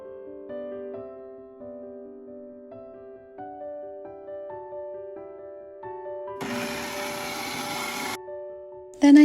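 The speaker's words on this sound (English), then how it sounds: "Then I blend them really well." An electric blender whirs loudly for about two seconds, mixing eggs with rum and vanilla extract for a strawberry Jello bundt cake batter. Soft background music plays throughout before and after the burst.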